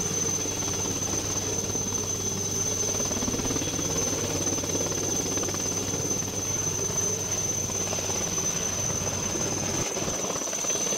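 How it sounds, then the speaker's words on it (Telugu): A helicopter in an army flood rescue over the Maneru river flood, a steady droning rotor and engine rumble that holds loud and unbroken throughout, with a constant high whine running above it. "హెలికాప్టర్లు వచ్చి కాపాడే ప్రయత్నం చేసినాయి."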